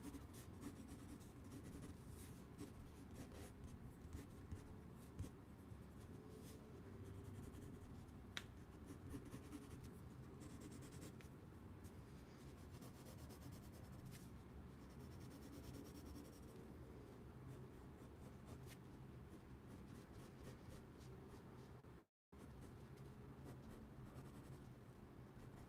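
A pencil moves lightly across paper during an abstract portrait drawing, giving a faint, continuous scratchy rubbing with short strokes and a brief pause near the end, close and quiet.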